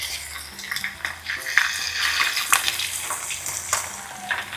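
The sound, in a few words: fish frying in hot oil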